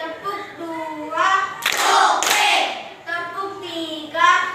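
Children in a classroom clapping game clap their hands together in a burst of quick claps, close and lively, between stretches of chanted talk from young voices.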